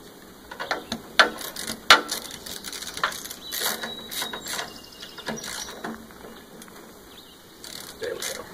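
A ratchet wrench tightens the oil drain plug on a Troy-Bilt Pony riding mower, giving a series of close, sharp clicking strokes in uneven bursts.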